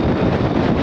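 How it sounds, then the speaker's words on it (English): A strong wind gust on open Dartmoor moorland at a wild camp with a Trailstar shelter roars loudly and steadily across the microphone, a dense buffeting rush with no pauses. "Whoa, that's a strong gust there."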